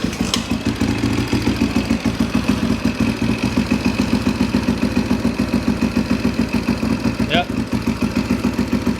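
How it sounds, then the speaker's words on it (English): A rare Husaberg dirt bike engine, restarted during fuel-flow troubleshooting, idles loudly and steadily with a rapid, even pulsing chug; a person briefly speaks. "We're going to fire it up again"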